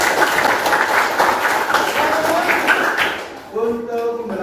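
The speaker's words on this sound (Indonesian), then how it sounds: "Tepuk tangan untuk kita semua" Classroom applause from students during a coding and artificial intelligence training session at a university, dense clapping for about three seconds before it fades out as a voice begins speaking.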